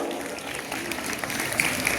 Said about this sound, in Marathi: सर्व विद्यार्थी यांचा आपण जोरदार टाळ्या वाजवून अभिनंदन करूया